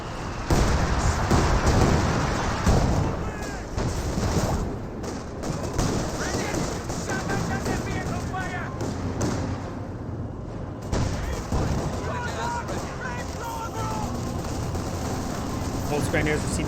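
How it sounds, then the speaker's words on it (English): A Katyusha rocket barrage in the video game Company of Heroes 2 strikes amid loud, continuous battlefield gunfire and explosions, with crackling impacts and rumbling blasts throughout, while a commentator talks over the action. "Here comes the Katusha barrage."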